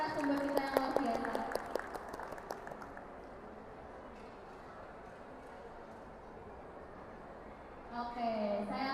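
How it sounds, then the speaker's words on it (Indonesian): Audience at a trade expo in Surabaya claps for a speaker, with steady, fairly quiet applause that carries on behind amplified talk and a brief burst of music. "Oke, tepuk tangan dulu dong untuk narasumber kita yang luar biasa."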